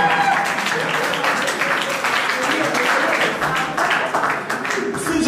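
A church congregation applauding during a French-language sermon on Christian maturity, steady dense clapping and cheering that fills the room for several seconds, with voices mixed into the crowd noise.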